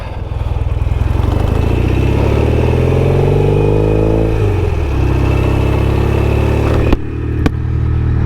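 Norton Commando 850 MK2 classic British motorcycle pulling away, its engine loud and close, revving up through rising pitch, then easing off with a couple of sharp clicks near the end.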